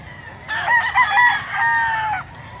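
A rooster, a gamecock of about three years, gives a single loud, close crow that rises and holds for nearly two seconds over faint background noise, with no voices.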